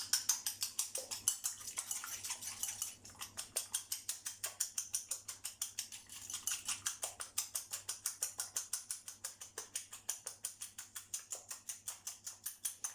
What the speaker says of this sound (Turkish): Yumurtamı çırpayım.